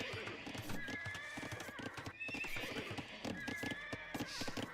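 Scout cavalry in an Age of Empires match produces steady clip-clop hoofbeats and repeated high whinnies, close and fairly loud, with busy game effects layered throughout.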